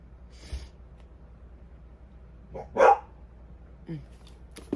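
A nearby dog gives a few short, sharp barks with quiet gaps between them, and one louder bark stands out in the middle.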